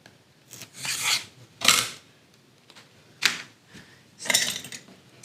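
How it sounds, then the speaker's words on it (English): Scissors snip out the four corners of fabric for a zippered make-up bag in four or five separate rasping cuts, close by, with short quiet pauses between them. "I'm going to take a pair of scissors and I'm going to cut those 4 corners out"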